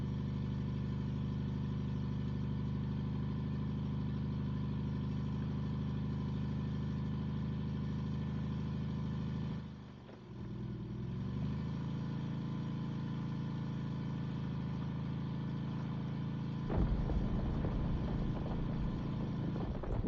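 A video-game car engine holds a steady, droning hum, dips briefly as it shifts, then settles back into a sustained mid-pitched roar that grows rougher and louder near the end.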